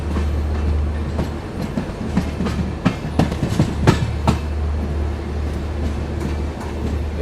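A Shatabdi Express train running onto the loop line at Rangapara North junction, with a loud steady rumble and a burst of rhythmic clickety-clack wheel clatter over the points midway, heard from inside the coach.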